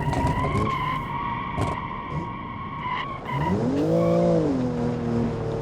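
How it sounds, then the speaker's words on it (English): A car engine whines at high revs in the BeamNG driving game, then tires screech in a long skid as it brakes hard and downshifts, loud and close. "That sounds sick when I hit the brakes, though, in downshift."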